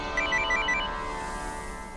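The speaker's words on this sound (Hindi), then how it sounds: "फोन।" Electronic phone ringtone chiming in a repeating melodic pattern, loud and close over a steady background hum, with no talking.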